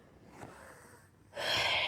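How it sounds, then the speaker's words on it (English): A person snores in a quiet room: a soft, breathy snort, then a louder, rasping exhale near the end. "I'm sorry if she's snoring too loud."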